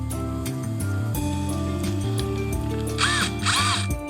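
A power drill fitted with a countersink bit bores into a polycarbonate bending brake workpiece, motor whirring in short bursts with stops and restarts and several pitch changes, close and fairly loud.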